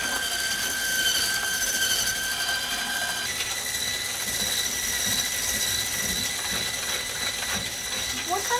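An electric mixer whirs steadily and loudly with a mechanical, gear-like whine as it whisks a flourless chocolate log mixture with caster sugar, continuous throughout.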